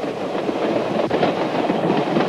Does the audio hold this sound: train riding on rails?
yes